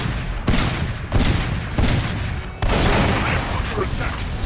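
Sustained gunfire volleys in a Transformers 2 video game battle against Decepticons, dense broadband bursts with short pauses, loud and continuous with booming impacts and talk mixed in.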